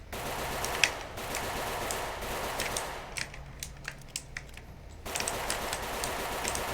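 Rapid bursts of gunfire in the video game Ancient Warfare 3 crackle in dense automatic streams, easing into scattered single shots before a loud volley resumes.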